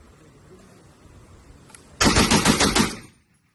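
M2 .50 caliber BMG heavy machine gun of the Philippine Army firing full auto at a range: one loud, sustained burst of rapid heavy shots lasting about a second, close by, then silence.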